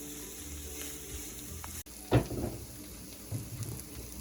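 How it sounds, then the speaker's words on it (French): A mushroom dish cooks in a pan with a soft, low sizzle, broken by a brief clatter of stirring a little past the two-second mark and a smaller knock near the end; quiet overall, no talking. "je vais laisser cuire tout ça ensemble pendant 10 à 15 minutes"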